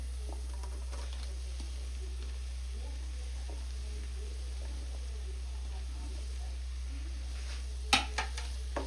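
Chopped onions sizzle and fry in a pan while a utensil stirs them, cooked for a Kerala-style duck mappas, with a steady low hum beneath and a few sharp metallic clanks near the end.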